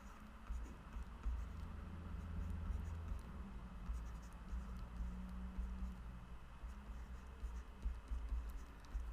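Writing during a plane geometry lesson on parallelism: a steady, quiet scratching of strokes made close by over a low background hum, with no speech.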